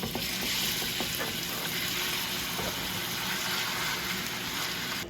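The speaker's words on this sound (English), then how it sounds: "we're going into the hot pan. You can hear it." Beef sizzles steadily in a hot pan, a dense crackling hiss with small pops, close and fairly quiet, with no voices.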